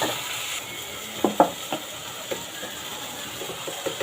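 Ginger paste and spices are stirred in a cooking pot for a chicken and pumpkin curry, giving a low steady sizzle with a few sharp spoon scrapes and taps against the pot.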